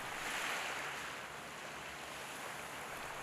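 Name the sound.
ocean waves breaking on Ganpo beach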